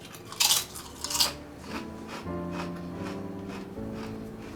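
Crunching bites into 58-year-old Lay's potato chips from 1967: two loud, crisp bites followed by a few seconds of softer chewing up close.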